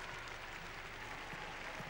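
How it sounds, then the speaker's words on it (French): Fellow figure skaters applaud at an ice rink, a dense, continuous wash of clapping that fills the whole moment with no pauses. "Il est applaudi par les autres patineurs."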